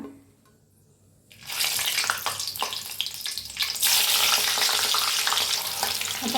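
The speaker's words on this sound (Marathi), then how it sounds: "आता मिरच्या तळून घेऊया" Slit green chillies dropped into hot oil for deep frying: a quiet start, then a loud burst of bubbling sizzle with spattering crackles that grows fuller and stays steady and close.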